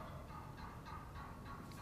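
Wild turkey gobblers gobble faintly in the distance, a few rattling calls rising over steady outdoor background noise.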